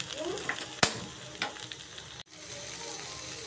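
Cut, washed potatoes fry in oil in a pan with a steady sizzle, broken by a sharp clatter of stirring and a brief scrape, close and fairly quiet.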